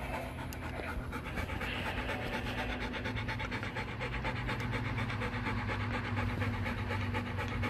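A dog with separation anxiety pants rapidly and steadily close by, a continuous breathy rhythm with no talking.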